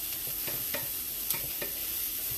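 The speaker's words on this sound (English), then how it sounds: "So my onions are cooking a little bit here, so now I'm going to throw my mushrooms in." Onions and mushrooms sizzle softly in a pan while a utensil stirs them in a few scraping strokes, close and fairly quiet, with no voices.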